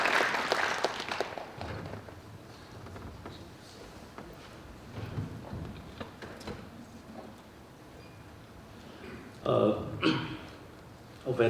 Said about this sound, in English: Please welcome Secretary General Sanusi with a big round of applause.